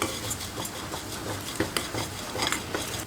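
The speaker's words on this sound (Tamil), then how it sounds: "நெய்ல இந்த அவலை போட்டு நான் கொஞ்சம் வறுத்து எடுத்துக்கிறேன்" Rice flakes (aval) roasting in ghee in a pan for aval payasam, with a steady low sizzle under repeated scraping and stirring strokes of a spoon against the metal, close and moderately quiet with no talking.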